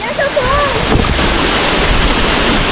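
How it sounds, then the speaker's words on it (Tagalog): Waterfall pouring at a beach resort with a pool, a steady broadband rush of falling water close by with wind buffeting the microphone, and a voice speaking briefly over it at the start. "nakakamangha lang yung pagbabagsak ng mga tubig"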